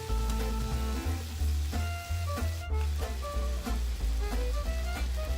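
Chicken for adobo sizzling steadily in a pan, a loud continuous crackle and hiss close by with a low hum underneath, no voices.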